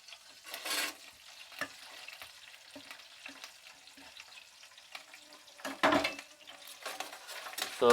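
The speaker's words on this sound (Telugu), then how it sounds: "ఉల్లిపాయ అనేది బాగా మనం వేయించుకోవాలి" Onions frying in oil in a pan for a sprouts pulav, with a steady crackling sizzle and occasional scrapes and clinks of a utensil against the pan, louder bursts near the end.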